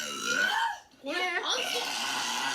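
A single close, drawn-out burp rises in the middle, with talking on either side of it.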